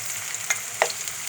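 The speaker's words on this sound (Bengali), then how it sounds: "পেঁয়াজগুলো ভালো করে নেড়ে নিব।" Chopped onions fry in a pan and get stirred, giving a faint, short hiss punctuated by two quick scraping clicks.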